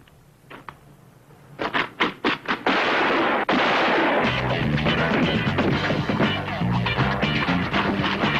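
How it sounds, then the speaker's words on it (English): Gunshots ring out in a movie scene, a few sharp scattered bangs followed by a dense, sustained burst of loud gunfire with clattering impacts, close and overwhelming. "Let's get out of here before someone reports the shots."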